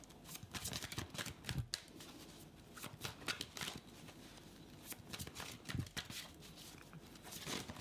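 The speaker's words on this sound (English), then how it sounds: "That was one of the hardest decks I've ever seen it shuffled." Hands riffle and bridge a thick deck of cards in repeated quick bursts of crisp flapping and ruffling close by, with short pauses between shuffles.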